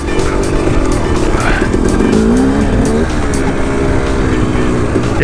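A KTM motorcycle ridden hard on a track, its engine droning loudly and steadily throughout with rising and falling revs and some tire noise, close and continuous.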